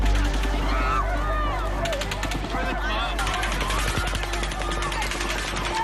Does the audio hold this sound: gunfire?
yes